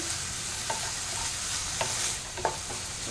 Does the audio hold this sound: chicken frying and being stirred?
yes